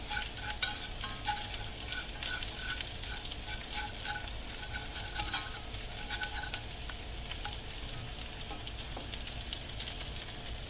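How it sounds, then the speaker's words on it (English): Flour browns in a frying pan for a Southern country breakfast, a low continuous sizzle with repeated scraping stirs and light crackles throughout, fairly quiet and without talk. "you should let this flour brown a little bit"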